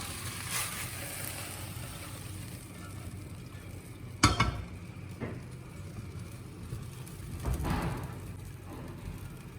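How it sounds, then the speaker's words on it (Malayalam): Onion, garlic, ginger and tomato sautéed in a non-stick pan for Thalassery dum biriyani give a steady soft sizzle, with a few distinct scraping and knocking stirs. The sound is quiet and close, with no talk. "ഞാനിത് സെപ്പറേറ്റായിട്ട് ഒരു നോൺ സ്റ്റിക്ക് പാനിൽ വഴറ്റി വെക്കുന്നുണ്ട്"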